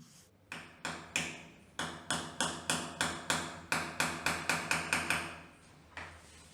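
A nail is hammered in with around twenty sharp, ringing blows, starting slow and then speeding into a steady rhythm before stopping.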